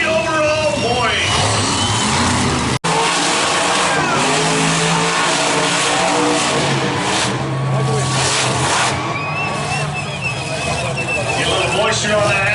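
Monster truck engines roar as trucks race side by side on an asphalt track at an arena event, revving and droning loudly throughout, a sharp bang near the three-second mark, while an announcer talks over the noise.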